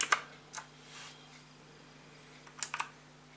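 Key presses on a HAVIT wired backlit mechanical gaming keyboard, a few sharp clicks near the start, then a pause, then a quick cluster of clacks near the end, close and fairly quiet.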